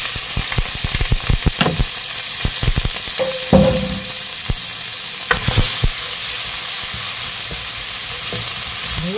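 Ginger sizzles in hot oil for fish escabeche, with a steady frying hiss and clatters of a utensil stirring the pan near the start, then the sizzle continuing alone.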